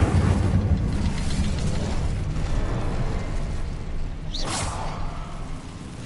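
The Incendio fire spell cast in Hogwarts Legacy: a sustained roaring, crackling burst of flame with a brief rising whoosh near the end, loud and continuous throughout.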